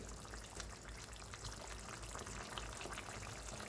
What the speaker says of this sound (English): Now I'm gonna add some more browning.